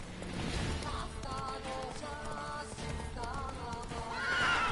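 Roach the horse from Witcher 3 whinnies in a drawn-out neigh with hoof clip-clops underneath, heard alone at moderate level against the game's ambient background.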